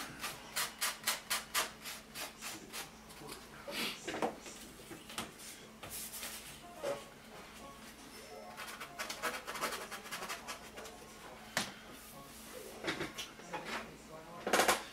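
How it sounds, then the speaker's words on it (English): Sandpaper rubbed back and forth over the rough edges of an assembled wooden piece, leaving repeated scratchy strokes in bursts, some quick and some slower, fairly close. "we'll just sand it here a little bit just to get the rough edges off of it"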